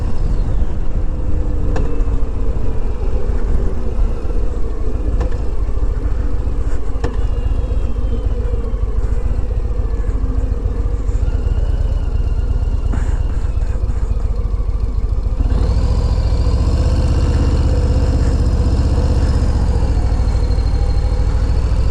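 A Harley-Davidson Low Rider S motorcycle engine runs with a loud, steady rumble throughout, its tone shifting and growing fuller partway through as it revs or gets under way, with no talking.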